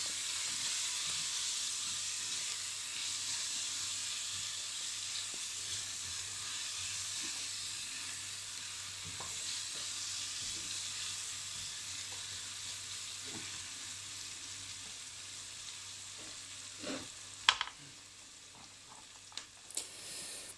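Onions fry and get stirred in a pan while making moules frites, a soft continuous sizzle and hiss with a few faint utensil clinks near the end, quiet and alone.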